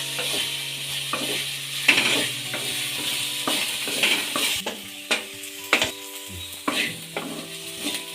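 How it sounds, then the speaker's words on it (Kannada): Okra frying in a pan over a medium gas flame, a steady close sizzle punctuated by repeated scraping stirs and occasional clinks of the spatula against the pan. "ಗ್ಯಾಸ್ ಮೀಡಿಯಮ್ ಫ್ಲೇಮ್ ಇಟ್ಕೊಂಡು ಬೆಂಡೆಕಾಯಿ ಜಲ್ಲಿ ಎಲ್ಲ ಹೋಗೋವರೆಗೂ ನೀಟಾಗಿ ಹುರಿಯಿರಿ"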